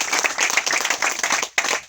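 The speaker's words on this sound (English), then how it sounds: "Clap for Jesus." Loud, close clapping from a church congregation, a dense burst of many hands with a brief break before it resumes.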